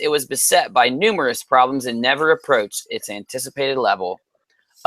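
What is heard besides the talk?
No distinct noise like a dog, phone or traffic.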